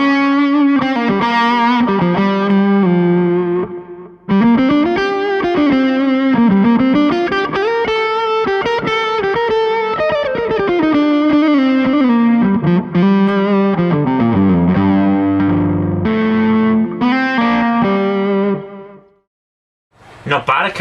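Electric guitar played through a B.K Butler Tube Driver pedal with its bias knob turned fully up gives a fuzzy, distorted tone in sustained melodic phrases, loud and continuous, with a brief pause near the start and a drop near the end.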